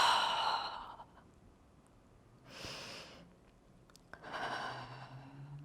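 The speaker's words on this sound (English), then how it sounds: "you're just gonna do deep breaths here" During a beginner Pilates mat class, a person takes slow deep breaths, with three long airy inhales and exhales spaced a couple of seconds apart, close and clear.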